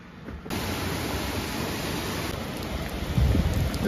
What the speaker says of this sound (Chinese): 这大雨从昨天晚上12点左右开始下，一直下到现在，保持这个节奏。